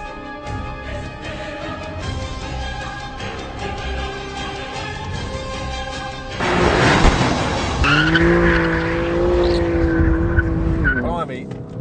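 A BMW M4 accelerating hard on a race track out of the last corner, its engine note rising loudly from about six seconds with tyre noise, under someone talking throughout.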